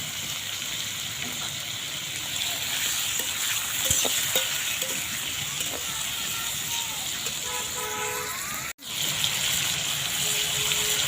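Tomatoes fry in a pan, a steady soft sizzle broken by scraping stirs and a few clinks of the utensil, with faint speech and a brief cut near the end.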